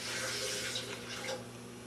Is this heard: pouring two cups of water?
yes